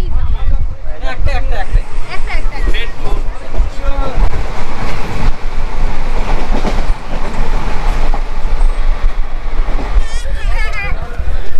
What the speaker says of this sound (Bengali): আমাদের ট্রেন এসে পৌঁছালো রামপুরহাট স্টেশন।